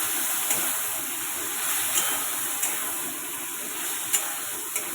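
Spice paste poured into a hot pan for a curry gives a steady, bright sizzle with a constant hiss and a few small pops, heard alone without talk.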